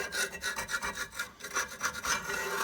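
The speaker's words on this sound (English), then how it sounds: "that just sounds like steel running on the cast iron" Steady scratchy scraping of a steel awl dragged repeatedly across the cast iron of a wood stove door, close up, in short uneven strokes with no talking.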